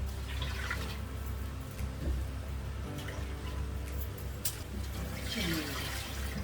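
Water pours into a pot holding sugar, giving a soft continuous splashing and trickling under a low background hum, fairly faint and close.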